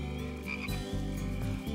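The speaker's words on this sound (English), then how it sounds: "Yuka Frog is singing." Frogs croak outdoors at night in a steady, throaty chorus of pulsing calls that continues without a break throughout.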